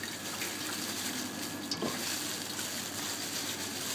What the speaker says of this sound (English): let it go into the pan like that from the bag